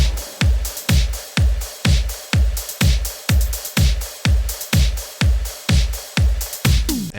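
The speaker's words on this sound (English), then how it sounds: "So all my drums soloed and without Monolith on sounds like this." Layered post punk drums play soloed and dry, without the Monolith plug-in: punchy, evenly spaced kick and snare hits in a steady driving rhythm with bright cymbal wash.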